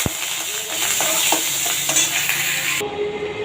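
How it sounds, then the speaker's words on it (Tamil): Mustard seeds, curry leaves and a dried red chili crackle and sizzle in hot oil for a roadside-style kara chutney tempering, a bright, dense hiss with sharp pops that cuts off abruptly near the end. "கடுகு தாளிச்சுக்கோங்க, கருவேப்பிலை போட்டுக்கோங்க, ஒரு வரமிளகாய் போட்டுக்கோங்க"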